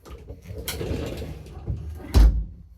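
A bathroom door with a magnetic catch is pulled shut, with some soft rustling and movement before a single solid thump as it snaps closed, heard close by.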